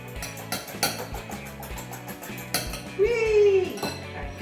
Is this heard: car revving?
no